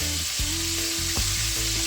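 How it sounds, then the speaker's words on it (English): Chicken sizzling and crackling in hot oil for Jamaican barbecue fried chicken, a continuous close frying hiss with a low hum beneath it. "Mine is still frying"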